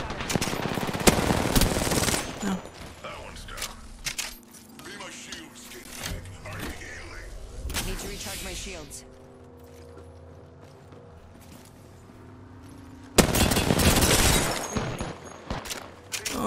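Bursts of automatic gunfire in the Apex Legends video game during an arena match, loud rapid volleys at the start and again near the end with sparser shots and mechanical clicks between, while players talk over the action.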